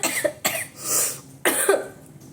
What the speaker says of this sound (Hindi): खांसी बहुत आती है मुझे,